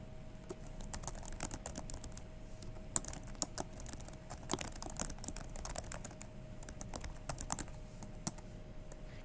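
Steady stretch of typing on a computer keyboard, quick irregular key clicks with occasional harder taps, close and fairly quiet over a faint steady hum, with no voices.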